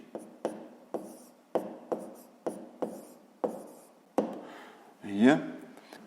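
Numbers being written by hand during a fifth-grade decimal multiplication exercise, a series of short, sharp pen or chalk taps and strokes at a steady rhythm, ending in a longer scratching stroke.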